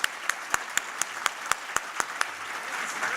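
Applause at an award presentation during a charity brunch, heard as about a dozen sharp, evenly spaced claps close by, with a soft bed of wider clapping beneath, fairly quiet overall.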